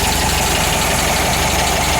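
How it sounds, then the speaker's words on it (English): A VW double cab engine, freshly rebuilt and with a plug cover missing, runs steadily at idle throughout, loud and close, with an even low rumble and no voices. "we're probably gonna dump some gas in that really quick and let it run for a while"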